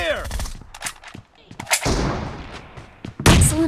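Gunfire in the mobile battle royale game Battlegrounds Mobile India, several loud booming shots and rapid bursts with game effects, heard over a phone's speaker.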